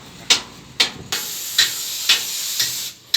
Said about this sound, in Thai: ก็ใช้ไฟเผา ช่วยนิดนึง